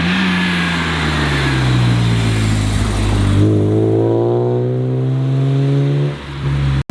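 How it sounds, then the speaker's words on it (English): A BMW E46 M3 inline-six with a tuned exhaust revs hard and accelerates close by, its engine note climbing steadily in pitch before easing off near the end, with no talking. "we got some really good exhaust shots of this car"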